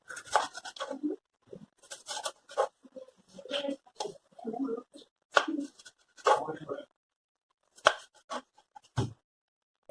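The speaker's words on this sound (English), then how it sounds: "Chop, chop, chop." A knife chops tomatoes on a board for rasam in quick, crisp, irregular bursts, close and fairly clear, with a voice speaking at times.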